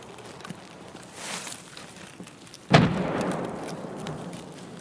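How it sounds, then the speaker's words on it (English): A single sharp, loud report from a sniper rifle cracks out of quiet background rumble, followed by a longer decaying boom and a fainter earlier burst in the distance. "That was a sniper rifle?"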